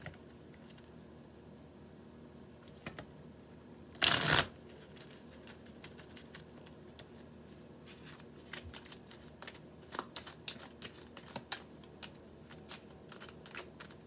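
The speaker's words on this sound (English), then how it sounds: "Shuffling the deck for Aries." A deck of tarot cards is riffled in one loud, quick burst, followed by quieter taps and card handling, close by.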